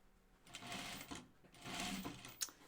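A home sewing machine stitches fabric for a Grainline Studio Tamarack vest in short, rapid whirring runs separated by brief pauses, close but fairly quiet.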